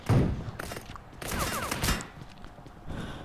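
Video game gunfire, a close burst of rapid shots followed by scattered thumps and a few more cracks, fairly loud and without talk.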